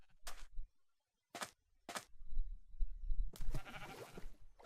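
Several short blocky bleats from sheep in the Minecraft Thaumcraft mod, four separate bursts, clear and near in a quiet game scene, the last one longer and fuller.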